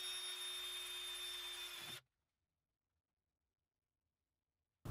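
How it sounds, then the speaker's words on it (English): A power drill whines steadily for about two seconds while drilling metal seat brackets in a Ford E350 van, then cuts off abruptly, leaving near silence. "Now it's time to drill."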